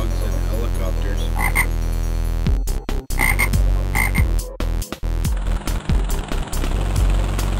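Frog croaks repeat over a steady, dense musical backing with sharp percussive hits, loud and continuous throughout.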